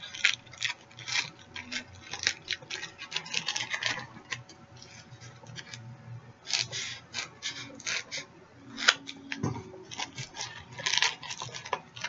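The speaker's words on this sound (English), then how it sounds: "trim it down right to the same size as this piece down on your butt end." Scissors trim a piece for a youth combat practice sword, making quiet, close bursts of crisp snips and rubbing scrapes with short pauses between them.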